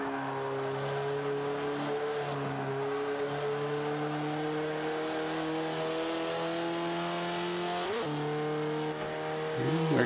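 An AWD Xbow race car accelerates hard in the Forza Motorsport 5 video game, its engine a loud, steady high-pitched drone that climbs in pitch through several gear changes, with a sharp shift near the end and no talk.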